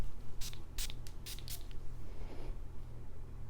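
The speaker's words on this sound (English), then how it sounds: "let's go spray this fragrance right now" Several short hissing bursts of Penhaligon's The Blazing Mister Sam fragrance being sprayed from its bottle, close and crisp, spaced irregularly over a low steady background hum with no talking.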